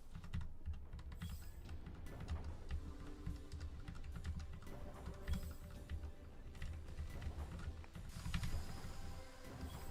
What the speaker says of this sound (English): keyboard ASMR